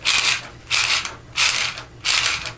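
A Beyblade LR string launcher is ripped four times in steady succession, each pull a loud, close whirring ratchet buzz lasting about half a second, with short quiet gaps between pulls and no voices.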